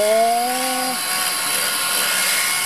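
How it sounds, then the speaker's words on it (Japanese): A power tool grinds FRP and epoxy putty on a custom kei truck body styled after a Chevrolet 3100. It makes a loud, continuous, close abrasive roar, with a brief falling whine at the start. "じゃあ今削ってるとこがずっと削れるわけだ"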